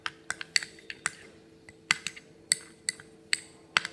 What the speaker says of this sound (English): Now I'm going to again go ahead and mix it up